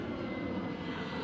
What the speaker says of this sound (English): KLM 737-700, by the way, which we are following